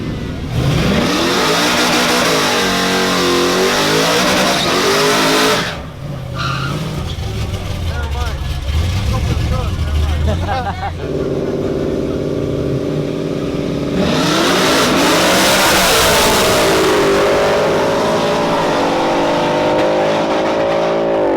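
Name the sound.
Ford versus Chevy single cab trucks revving and racing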